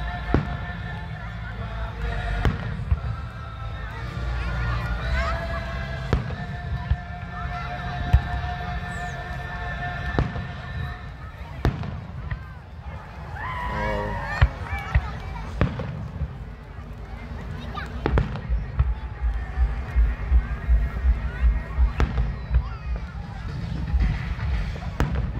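A July 4th fireworks show at Coppersky Park, with repeated booms and crackles at an irregular pace. The bursts stand against a steady outdoor crowd murmur, and people talk nearby throughout.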